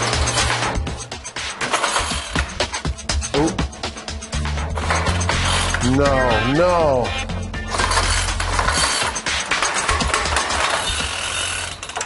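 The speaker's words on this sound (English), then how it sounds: "The tiny motor can't turn that big fan." A leaf blower motor strains to spin an oversized fan, giving a loud, ratcheting, grinding mechanical clatter with a rising and falling whine in the middle. People talk briefly over it.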